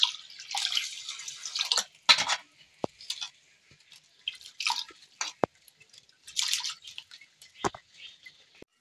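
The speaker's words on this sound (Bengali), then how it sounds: "বিরিয়ানির চালটা আমি ঠিকঠাক করে ধুয়ে নেব।" Biryani rice grains being rinsed by hand in a bowl of water, with irregular splashy swishes and drips, close and moderately quiet, with brief pauses between bursts.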